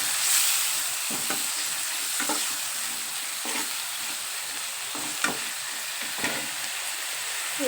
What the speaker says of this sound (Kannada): ಸಣ್ಣಗೆ ಕಟ್ ಮಾಡ್ಕೊಂಡಿರೋದು ಸಣ್ಣ ಟೊಮೆಟೊ ಹಣ್ಣಿಂದು ಹಾಕ್ಕೊಂಡು ಈ ಥರ ಫ್ರೈ ಮಾಡಿಕೊಂಡು